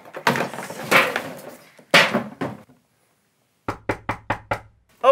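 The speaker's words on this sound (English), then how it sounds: "that knock at the door can only mean one thing" Someone knocks on a wooden door with five quick, sharp, evenly spaced raps close by. Before the knocks there is a stretch of talk, then a brief silence.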